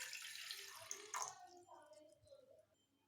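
Water is poured into a pot on a stove for spiced immunity tea, a broad splashing stream for about a second and a half that quickly thins into faint trickles and drips.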